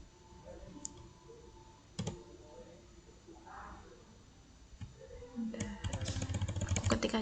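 Computer keyboard keys click in a quick, irregular burst of typing that grows louder and denser toward the end, with a few earlier isolated taps and a voice speaking in the background.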